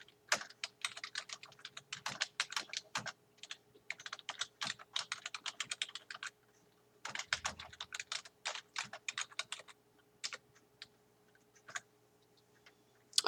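Typing on a computer keyboard to enter footnote text in a word processor: quick bursts of close, crisp key clicks with short pauses between runs, no talking.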